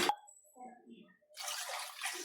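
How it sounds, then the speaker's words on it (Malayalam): Water splashes and rushes steadily into a fish curry pot for about a second after a brief clatter and quiet pause, fairly close. "കുറച്ച് വെള്ളം കൂടെ ഒഴിക്കാം"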